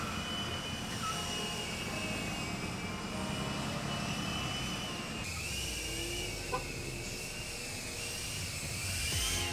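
A quadcopter drone banks steeply at roughly 30 to 45 degrees while circling a rock outdoors, its motors giving a steady, high-pitched whine with shifting tones. The sound is continuous and fairly close, with no talking.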